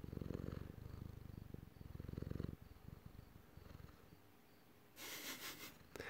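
A cat purrs close into a microphone, with steady low rumbling bursts and audible breaths between them, followed by a brief noisier sniff or rustle near the end.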